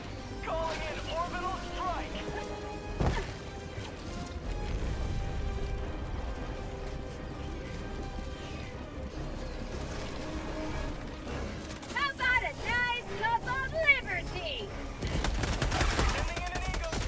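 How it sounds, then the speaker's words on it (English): In Helldivers 2, an orbital railgun strike lands amid gunfire, with bursts of rapid shots, a heavy crashing impact and mechanical whirs and chirps over a constant battle din, with voices talking over it. "I'm about to hit him with my orbital rail gun."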